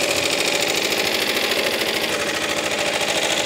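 A Suffolk Super Punch/Colt lawnmower engine idles with a fast, even, chattering pulse, loud and close, holding a constant tone from start to finish.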